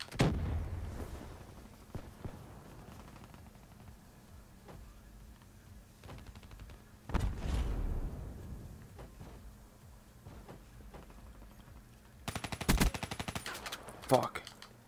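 Gunfire from the Black Ops 3 multiplayer shooter: repeated bursts of automatic shots and sharp single cracks through the match, with loud volleys near the start, the middle and the end, and a player's voice talking at times.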